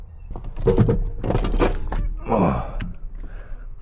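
A 1984 Camaro Z28 seat is yanked out of the car interior in a few rough bursts of thuds, creaks and scraping, with a strained grunt alongside.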